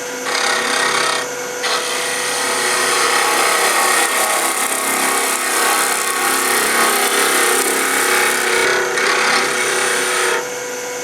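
A woodturning tool makes a smooth slicing cut on a spinning wooden napkin ring on a lathe, giving a steady, close hiss and rasp that runs for several seconds with brief lighter moments near the start and end.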